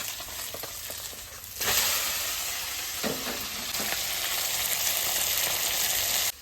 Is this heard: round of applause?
no